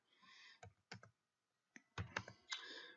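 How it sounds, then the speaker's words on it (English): A password is typed on a computer keyboard: scattered sharp key clicks in short bursts with a pause in the middle, close and quiet, with no talk. "what happens if we are not so good at typing passwords?"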